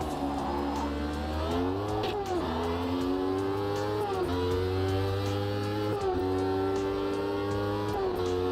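A turbocharged race car in Automobilista 2 revs hard through repeated upshifts, each climb in pitch cut by a gear change, with a high turbo whine riding over the loud, continuous engine.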